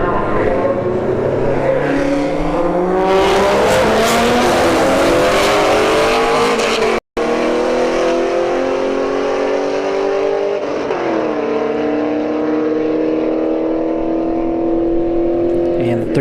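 A 5th gen Camaro SS and a BMW 3 Series roll race at a drag strip, engines revving hard through rising gear pulls and shifting pitch, loud and close, with a commentator talking over them.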